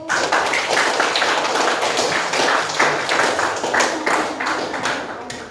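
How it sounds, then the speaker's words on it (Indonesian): A classroom of students claps hands together, a dense, continuous patter of many close claps lasting several seconds, with no talk. "Sok tepuk tangan dulu waktu."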